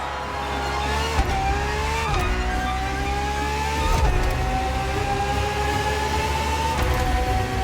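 A Ferrari FXX-K track-only racing car screams through the gears in The Crew Motorfest on Xbox Series S/X, its loud engine note climbing and then dropping sharply at each shift, with no talk.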